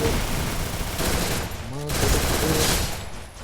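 Rapid gunfire from a video game, with a burst of automatic shots through a headshot moment, loud and continuous over a busy game soundtrack with brief voice-like sounds mixed in.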